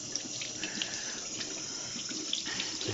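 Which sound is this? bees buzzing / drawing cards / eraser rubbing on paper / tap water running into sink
tap water running into sink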